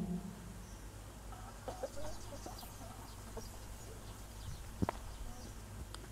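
A hen clucks softly in a farmyard setting, giving a few faint, scattered clucks over a steady low background murmur.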